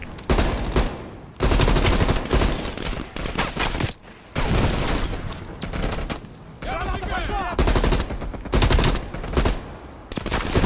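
Heavy machine gun fire in the Call of Duty Cold War campaign, loud sustained bursts of rapid shots with brief pauses, dense and close, mixed with battle noise and voices talking over it.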